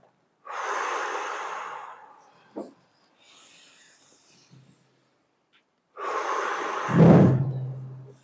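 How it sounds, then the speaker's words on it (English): Two long, deep breaths during a breathing exercise, each a close, airy rush lasting over a second, the second ending in a low, rough exhale. "Take a nice deep breath."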